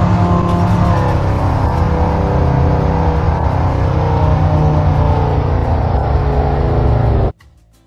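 A car driving in the Roblox game Bloxburg, a steady, loud engine drone with a constant hum and faint whir holding for several seconds before cutting off abruptly to near silence, no voices.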